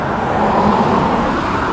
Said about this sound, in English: We just had the occasional cars driving by